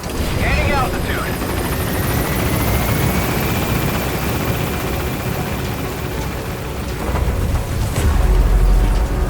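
Pequod helicopter in Metal Gear Solid V rising and gaining altitude, a loud, close rotor roar with a deep rumble swelling toward the end, while radio voices speak over it.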